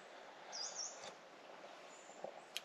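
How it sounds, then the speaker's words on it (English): Birds call at a woodland bushcraft camp, a few thin high chirps scattered over a steady outdoor background hiss, faint and distant, with no talk. "listen to the birds chirping away"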